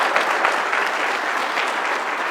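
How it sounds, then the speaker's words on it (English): A football team claps and cheers in a locker room, a dense burst of close applause that continues throughout. "Give yourself a round of applause."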